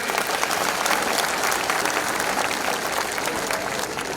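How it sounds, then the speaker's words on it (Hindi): An audience at an open-air election rally in Chittorgarh applauds in sustained, dense clapping that holds steady for several seconds, loud and close. "आप एक बार सब अतिथियों को एक बार ताली बजा देगा"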